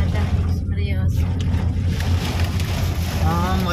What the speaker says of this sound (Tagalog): Mas malakas pa yung hangin.